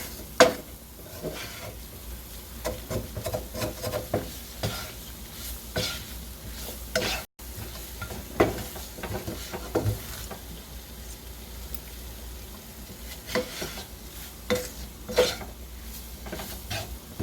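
Flour cooking in a pan of steak drippings for smothered steak gravy, stirred with a utensil: soft continuous sizzle under repeated scraping and clinking strokes against the pan, close and moderately loud.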